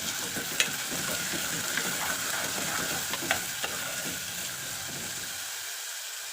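Spiced avarekalu (field bean) curry fries in oil while being stirred, a dense, close sizzle with a few light spoon taps against the pan scattered through, fading slightly at the end.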